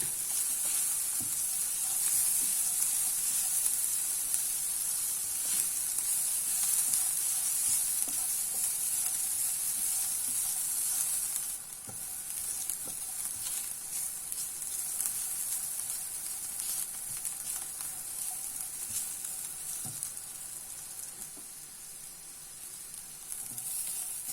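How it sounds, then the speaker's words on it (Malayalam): Chopped onion and ginger frying in a pan, a steady close sizzle and hiss that runs throughout, easing slightly partway, with occasional faint taps of stirring. "ഈ സവാള ഇനി നമുക്ക് നന്നായിട്ട് മൂത്തു."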